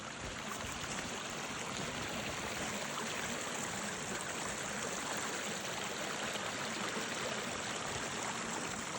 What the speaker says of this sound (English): Starting to freeze a little bit, but the water's still managing to plow through.